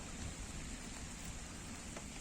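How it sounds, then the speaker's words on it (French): Steady, dense rain hisses down onto a pond, a constant close wash of drops with no voices. "il pleut vraiment beaucoup sur l'étang"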